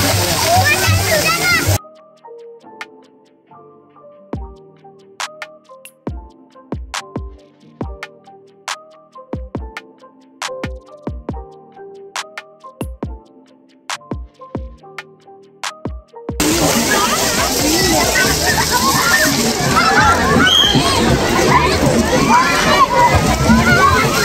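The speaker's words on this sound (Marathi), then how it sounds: "हे बघा स्प्लॅश पॅड करून आहे सुरुवातीलाच. हे बघा सुंदर असं अशा रीतीने पाणी बाहेर येतं याच्यातून." Water sprays from a splash pad in a city park, giving a loud, continuous rushing hiss with children's voices around it. A long stretch of plucked melodic music interrupts the water sound before the spray returns.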